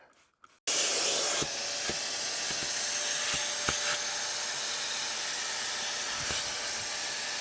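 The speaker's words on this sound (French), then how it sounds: "je prends l'aspirateur, je prends l'embout. Oula. Et j'aspire tout." A vacuum cleaner with a nozzle attachment roars on steadily after a brief quiet start, its loud constant hiss broken by occasional knocks and clicks as it sucks dirt from the interior of a Peugeot 206 car.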